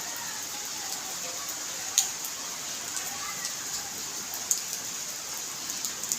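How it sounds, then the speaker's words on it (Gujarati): Light drizzling rain falling steadily outdoors, a soft even hiss with a few faint scattered drop ticks, moderately close and continuous with no other sounds. "અમારે તો અહીંયા ધીમી ધારે ઝરમર વરસાદ વરસી રહ્યો છે"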